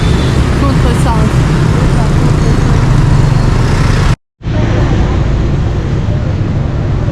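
Busy Hanoi street traffic of motorbikes, some riding against the flow, makes a dense, loud, continuous roar up close. It cuts out briefly and then resumes, with voices faintly mixed in.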